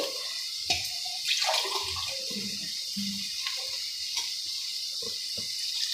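Water pours and splashes for semiya upma, broken by short drips and gurgles, fairly quiet and close with no talk.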